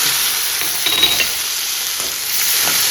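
Steady loud sizzle of mustard seeds, chana dal, curry leaves, small shallots and a single tomato tempering in hot oil for a Kerala-style lunchbox dish, with faint stirring scrapes throughout and no talk.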